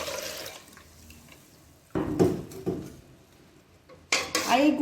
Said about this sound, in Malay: Air gula ni gaul rata